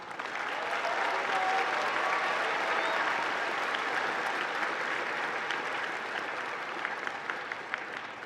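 A graduation crowd at Vallivue High School applauds, a long, steady wash of clapping from many hands, fairly distant and even, lasting several seconds with no talk over it.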